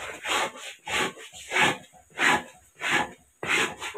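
A spoon stirs ABC malt in a pan over a slow flame, scraping in about seven steady, rhythmic strokes, each a close, rough swish with brief pauses between.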